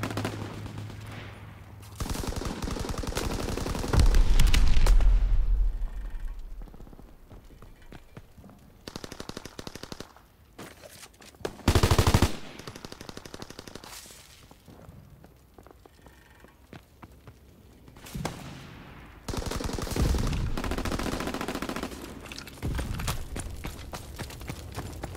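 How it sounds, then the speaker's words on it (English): Machine-gun fire from a strafing aircraft in the Call of Duty WWII video game, loud bursts of rapid shots separated by brief pauses and quieter stretches, with a sharp boom partway through. "Fighter pilot inbound, strafing the target."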